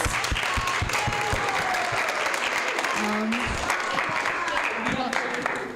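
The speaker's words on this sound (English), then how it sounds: "Let's give them a round of applause." A crowd at a temple Sunday school graduation claps loudly and continuously, a thick sustained applause with faint voices mixed in underneath.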